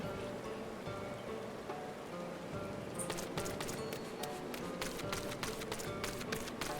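Steady rain in Final Fantasy XIV patters on surfaces, a constant soft hiss with a denser run of drips and taps partway through.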